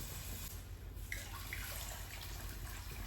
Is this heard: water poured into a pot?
yes